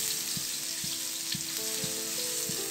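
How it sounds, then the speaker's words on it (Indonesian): Garlic sizzles steadily in hot oil in a home kitchen while cooking long-life noodles, a dense continuous crackle with soft periodic stirring knocks, close and even, with no talk. "mulai dengan panaskan minyak, tumis bawang putih sampai keluar bau harumnya"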